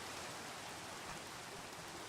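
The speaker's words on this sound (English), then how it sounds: "listen to that cool Minecraft rain" Rain falls in Minecraft as a soft, even hiss of drops that holds steady and faint throughout, with no voices.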